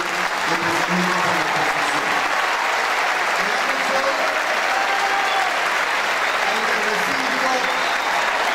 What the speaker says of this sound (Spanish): pido un aplauso para los 14 concejales que presentan a la